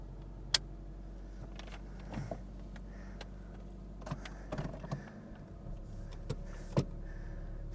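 A 1999 four-wheel-drive Toyota Sprinter Corolla idles steadily with a low, constant engine hum, broken by a few sharp clicks and clunks nearby; no one speaks.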